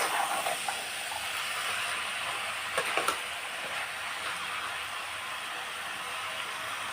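Mutton vegetable keema frying in a pan, a steady broad sizzling hiss with a couple of brief louder spits partway through, and no voices.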